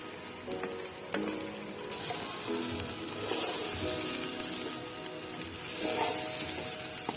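Potato pieces frying in oil for a duck curry crackle and hiss quietly, with occasional stirring clatters and brief louder bursts.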